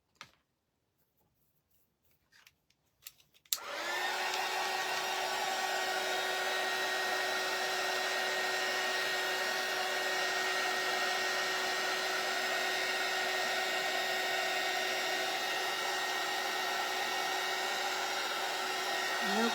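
Hair dryer drying craft kit pieces for a bunny welcome hanger, starting abruptly after a few faint small knocks and then blowing as a loud, steady, unbroken whoosh with a faint whine for the rest of the time.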